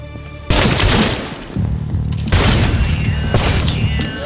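Gunfire from a mafia action scene, with loud bursts of rapid shots that fill the clip and booming impacts that continue with only brief dips.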